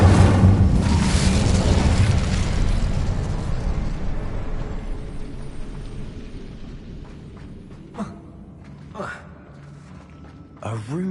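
The Incendio fire spell in Hogwarts Legacy erupts in a loud, booming whoosh that rumbles and slowly fades over several seconds, followed by a few quieter sharp magical bursts.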